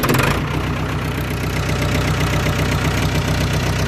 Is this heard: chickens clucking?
no